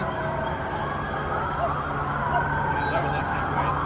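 Many police sirens wail steadily in the distance during a protest march, blending with crowd noise and a constant traffic rumble.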